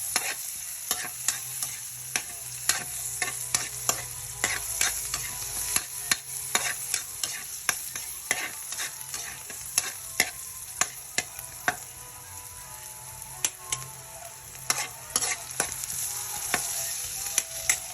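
Sliced onions sautéing in a pan, a low sizzle punctuated by frequent sharp spatula scrapes and clinks against the metal in an irregular rhythm, close up, with no talking.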